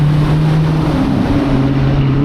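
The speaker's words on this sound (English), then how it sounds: "I think I can beat this diesel truck here" A diesel truck passes close by on a road, its low engine drone steady and loud with a pitch that shifts slightly as it goes by, mixed with wind rush from riding an e-bike.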